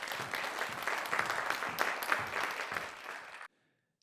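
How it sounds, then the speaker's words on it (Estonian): Audience applause at an Estonian regional education awards gala, a dense steady clapping from a crowd that carries on for about three and a half seconds before cutting off sharply into silence. "Aplaus selle eest."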